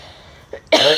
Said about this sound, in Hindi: थोड़ा सा खांसी वगैरह है मुझे